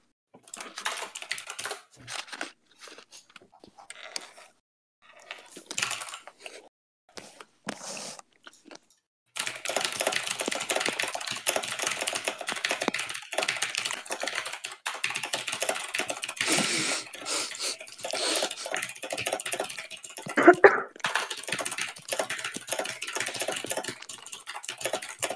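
Computer keyboard typing picked up during a Discord podcast call: sparse clusters of key clicks at first, then a steady, rapid, close clatter of keystrokes running on with no voices.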